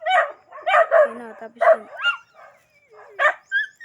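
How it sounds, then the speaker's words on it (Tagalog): Several dogs on a small farm bark in short loud bursts, some yips and whimpering tones mixed in, with a person talking briefly between the barks. "Ang ingay ng mga aso dito."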